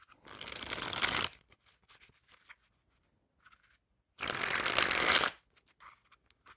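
Two bursts of Jerry's Nugget playing cards being shuffled, a rapid riffling flutter about a second long each, separated by quiet handling clicks.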